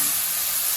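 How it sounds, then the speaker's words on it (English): Beef broth hits a hot pan of beef cheeks on a Kamado Joe grill, giving a brief, loud, steady sizzling hiss. "What we want to do now is hit them with some beef broth, and kind of deglaze that pan."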